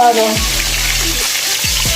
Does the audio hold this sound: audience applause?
no